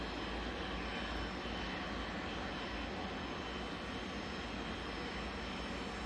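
Passenger plane departing Manchester Airport for Nice: a steady, loud broadband engine roar with deep low rumble that holds evenly for the whole stretch, with no voices over it.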